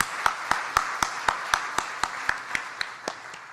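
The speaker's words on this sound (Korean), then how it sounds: "자녀들을 위해서 축복의 박수를 한번 보냅시다." A church congregation clapping together in a quick, even rhythm of about fourteen sharp beats, gradually fading toward the end.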